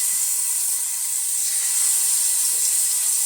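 Fish pieces laid one by one into a pan of hot oil for a crispy Telugu-style fish fry, giving a steady, close, loud sizzling hiss with no talk.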